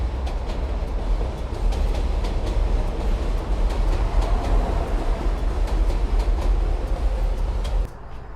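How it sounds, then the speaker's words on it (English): M subway train rumbling across the Williamsburg Bridge in New York, a loud continuous roar of wheels and rattling steel with faint clicks above, steady throughout before dropping off suddenly near the end. "Oh, you can see that M train."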